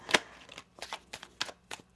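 A deck of tarot cards being shuffled, quiet crisp riffles and slaps arriving in a loose series of about six short bursts, close and alone.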